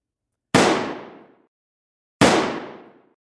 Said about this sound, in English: As you can see, there's an explosion sound and the background picture changes.